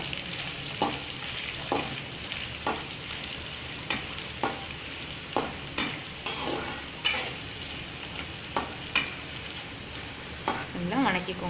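Peanuts and whole dried red chillies fry in hot oil for tamarind puliyodharai paste, a steady sizzle broken by regular clinks and scrapes of a stirring spoon against the pan.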